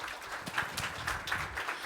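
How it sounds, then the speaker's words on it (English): An audience at a usable-security symposium paper session claps in scattered, soft applause that sounds faint and somewhat distant. "let's give one round of applause again"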